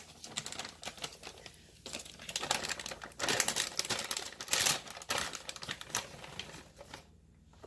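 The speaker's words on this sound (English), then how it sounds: "I'm going to open up this other bag of cheddar." A plastic bag of shredded cheddar cheese torn open and handled while making baked mac and cheese: close, continuous crinkling and rustling of plastic in uneven bursts, louder midway, then tapering off.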